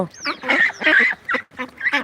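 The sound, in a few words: ducks quacking on a duck farm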